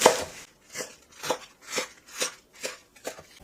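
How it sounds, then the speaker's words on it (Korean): A knife chops green onions, thick root ends split in half and cut into 4-5 cm lengths on a cutting board, seven or eight evenly spaced crisp cuts, close and clear with no talking. "굵은 뿌리는 이렇게 2분의 1로 갈라서 4에서 5cm 길이로 썰어주세요"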